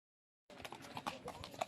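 Horse hooves clip-clop along a tourist path at Mount Abu near Sunset Point, a steady run of close hoof strikes that starts abruptly after a short silence, with faint background voices.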